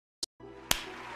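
A single sharp hand clap rings out close and loud after a brief click, over a low steady background hum.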